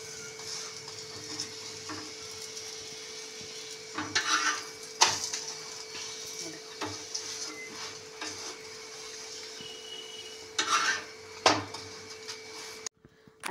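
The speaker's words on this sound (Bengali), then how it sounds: "আস্তে আস্তে চেপে চেপে খুব সুন্দর করে ভেজে নিতে হবে।" A cabbage paratha fries in a pan while it is pressed down, a soft steady sizzle under a constant hum, broken by a few louder scrapes and clinks of the utensil, with no talking.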